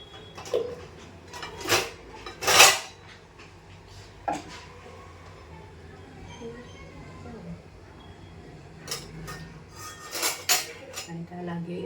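A wooden rolling board and rolling pin being handled in a home kitchen, scattered knocks and clatters of wood and utensils, some sharp and close, with quiet stretches between and someone talking intermittently.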